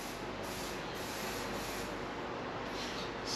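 A continuous broad hiss of ceramic coating being sprayed steadily onto a car for several seconds, close and fairly loud, with no talking.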